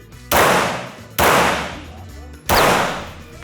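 Three loud, close gunshots with long echoing decays, fired at spaced intervals during a RAID police shooting exercise.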